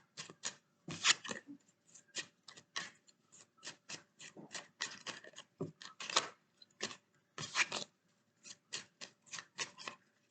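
Cards shuffled by hand for a general tarot reading, a quick run of crisp riffling and rubbing bursts that repeat at a steady pace, close and clear, with no talking over them.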